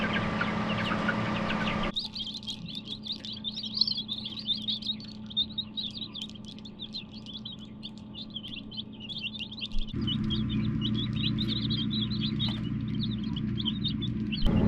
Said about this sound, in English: You turkeys are trouble, aren't you?